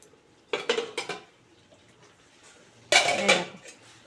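A metal lid is lifted off a pot of doi potol, a pointed gourd and yogurt curry, with two bursts of close clattering clinks separated by a quiet pause.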